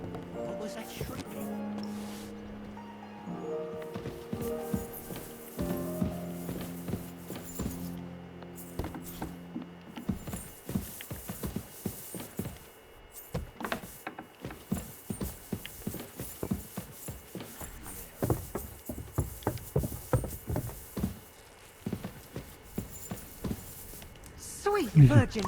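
Horse hooves clip-clop in Kingdom Come: Deliverance II, a steady rhythmic trot of soft thuds that grows more distinct in the second half, with a musical score and occasional game sounds underneath.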